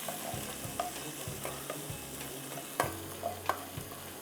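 Ginger julienne, green chilies, mushrooms and garlic stir-frying in a pan over low heat, with a steady soft sizzle and intermittent scraping stirs of a spatula, close and moderately quiet, with no voices.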